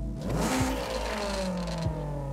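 A 2000 Nissan Silvia Spec-R with a modified sport exhaust in the game Forza Horizon 5 revs up and holds a higher drone, with a few quick throttle blips and a raspy, louder tone throughout.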